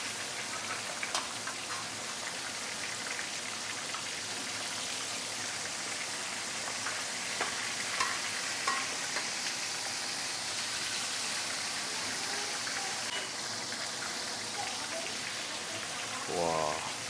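Flower crab deep frying in a pot of hot oil at home, a steady dense sizzling hiss with scattered pops and crackles throughout, loud and continuous.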